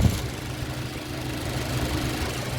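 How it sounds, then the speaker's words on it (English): A 2019 Mazda3 engine idles steadily with a fast, even ticking of the fuel injectors pulsing through its low rumble, close and continuous. "That aggressive ticking is the sound of the pulse of the injectors."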